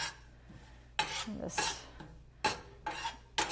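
A spoon scrapes and rasps through whole spices toasting in a dry pan, in three or four short bursts separated by quiet pauses, close and moderately loud with no talking.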